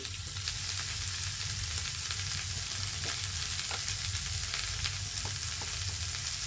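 Vegetables sizzle and fry in a pan with salt added, a continuous close hiss with scattered scraping clicks from stirring, and no voices.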